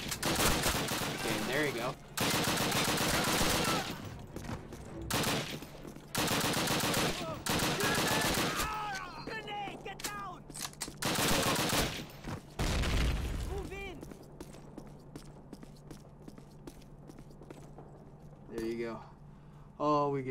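Bursts of MG42 machine gun fire in the first Call of Duty game, loud rapid volleys repeating in sets with booming hits and clatter between them, a voice briefly speaking near the end.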